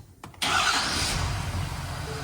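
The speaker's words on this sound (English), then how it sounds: "we're just gonna fire it up and make sure everything runs good" A high-mileage Ford F-350 Powerstroke diesel cranks briefly, then fires up into a loud, steady rumbling idle, close by with no talking.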